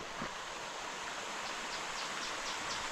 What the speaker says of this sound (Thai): โอ้วันนี้เป็นห้วยน้ำแล้วก็ตกลงมาแบบนี้